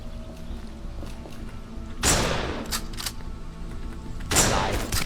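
Gunfire from an enemy Breather in the video game Dead Don't Die, arriving as two loud bursts about two seconds apart over a steady low background rumble.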